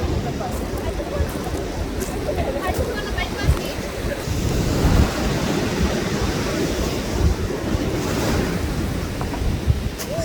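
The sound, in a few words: sea waves on a beach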